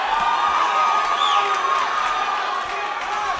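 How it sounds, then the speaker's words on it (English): Boxing arena crowd cheering and shouting loudly throughout, a dense roar with whoops rising over it, under a commentator's voice. "He's giving this crowd just as much excitement as Meza is, to be honest"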